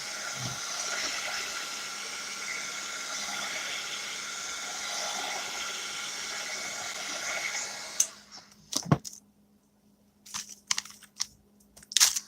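A hair dryer blowing on a freshly glued journal page, a steady close whooshing roar for about eight seconds that cuts off abruptly, followed by scattered crinkling paper and handling sounds.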